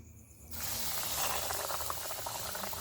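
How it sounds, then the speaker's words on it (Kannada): Marinated chicken pieces drop into hot oil and a loud bubbling sizzle bursts in, close and continuous after a quiet start. "ಎಲ್ಲ ಚಿಕನನ್ನು ಹೀಗೆ ಮಿಕ್ಸ್ ಮಾಡಿ ಆದಮೇಲೆ ಒಂದೊಂದನ್ನೇ ತೆಗೆದು ಎಣ್ಣೆಯಲ್ಲಿ ಬಿಡಬೇಕು"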